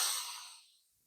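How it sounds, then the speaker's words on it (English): A single soft breath drawn in during a yoga session, a breathy airy rush that fades out over about a second, with no talking. "You're just breathing in"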